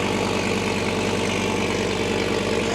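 A V8 car with an aftermarket exhaust, including muffler and side dumps, idles loudly and up close, its deep, lumpy burble pulsing steadily with no talk over it.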